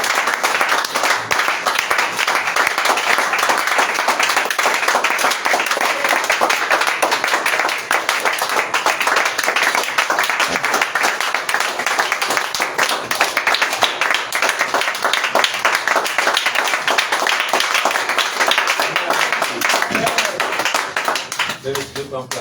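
A church congregation claps and applauds steadily and loudly throughout a worship service, a dense continuous patter of many hands, with voices mixed in underneath.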